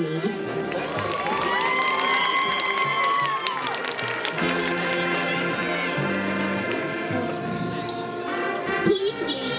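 Crowd cheering and applause at a high school football game for a homecoming queen candidate, loud and continuous throughout with shouting voices, and music running underneath.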